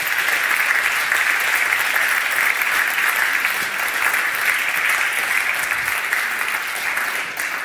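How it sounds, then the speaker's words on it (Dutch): Sustained applause from a symposium audience in a Dutch hall, dense and steady clapping filling the room for the whole stretch with no pauses and no speech over it. "Geef ze een groot applaus."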